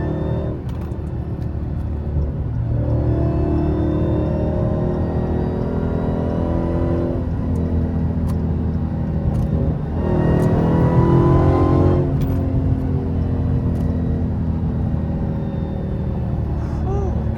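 A Dodge Hellcat engine on a small-town drive, a deep continuous rumble with rising revs and a louder surge of acceleration midway, heard from inside the car with a voice talking over it.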